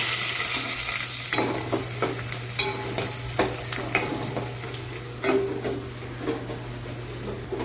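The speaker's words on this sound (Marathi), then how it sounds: "मी पहिला तेल टाकलेलं आहे, मग तेलावर थोडासा हिंग टाकला, 2 मिरच्या टाकलेलं आहे, मग लसूण" Asafoetida, green chillies and garlic sizzle in hot oil in a pan, a constant close frying hiss broken by repeated stirring scrapes and soft clacks, with no voices.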